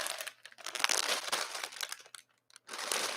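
Plastic bag crinkling and rustling around a Heavy plushie from Team Fortress 2, loud and close, with continuous crackling handling that pauses briefly near the end.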